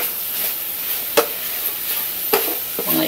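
Chicken and bok choy stir-frying in a pan, with a constant sizzle and a few sharp scrapes and clatters as the food is stirred.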